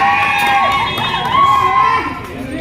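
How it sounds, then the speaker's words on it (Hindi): A crowd of spectators shouts and cheers around a street magic show in Jaisalmer, a loud, continuous mix of raised voices and yelling lasting a few seconds. "अच्छा, वो मैजिक दिखा रहा है, उसके लिए वो चिल्ला रहे।"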